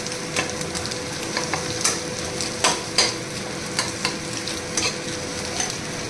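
Spoon stirring an onion, egg and potato mixture in a frying pan for a breakfast egg sandwich, with soft sizzling underneath and a series of sharp scraping clicks against the pan, close and fairly quiet, no voices.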